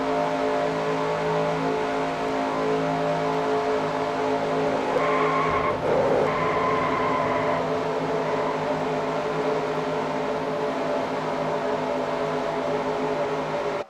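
Onboard the number 33 race car racing at Daytona, its engine gives a loud, sustained high whine close up, with a brief squeal and a pitch shift midway before the roar carries on steadily.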